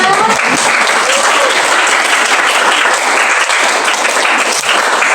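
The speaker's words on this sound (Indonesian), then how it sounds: "Tepuk tangan buat adik semua" Students at a high school capital-market education session in Banjarmasin burst into loud, close, continuous applause, a dense wash of clapping that holds at full strength from start to finish.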